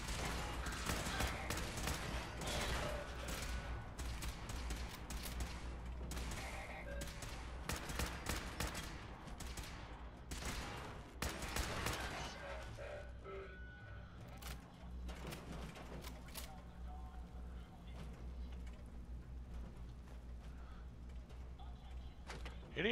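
Bursts of enemy gunfire in Fallout 4, rapid clustered shots over the first half, thinning to sparse single cracks later among quieter mechanical clanks, with faint talk in places.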